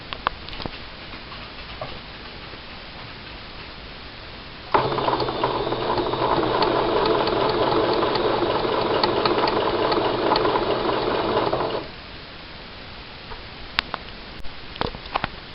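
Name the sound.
sewing machine stitching bias tape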